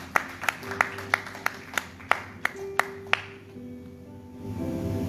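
Church congregation clapping, about ten sharp, evenly spaced claps in a steady rhythm over soft sustained musical tones, fading as the music swells afterward.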